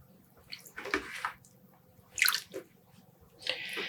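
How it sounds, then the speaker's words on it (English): Superwash merino fingering-weight yarn pressed down into water in a tub to soak, giving soft, irregular splashes and drips in a few short bursts against a quiet background. "I'm just putting the yarn in the tub, pressing it down to make sure it gets completely soaked"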